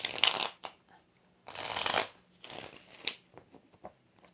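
Tarot cards are shuffled by hand in several quick riffling bursts separated by brief pauses, the crisp papery flutter close and moderately quiet.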